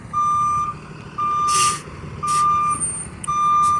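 Repeated loud reversing beeps from a school bus backing straight up in a Class B CDL parking drill, sounding at a steady rhythm over a rumbling diesel idle, with brief bursts of air hiss between them.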